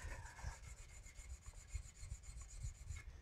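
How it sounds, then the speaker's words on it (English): Wood rubbed against a carved wooden piece to burnish it to a shine, a steady close scraping rasp that repeats in short strokes with no talk. "Wood on wood is the best burnisher, and you can just achieve really beautiful shiny result."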